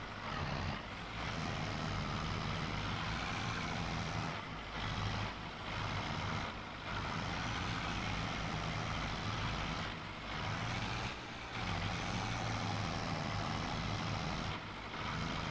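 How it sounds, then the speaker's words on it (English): A tractor engine in the farming game Farming Simulator 22 drones steadily and loud throughout, a continuous low rumble with slight dips in intensity and no voices. "Pick a gear, tractor, pick a gear."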